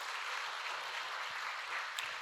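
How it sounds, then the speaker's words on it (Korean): A church congregation at a Sunday service applauds, with dense, steady clapping from many hands sustained evenly throughout at moderate volume and no talking. "박수로 축복해 주시기 바랍니다"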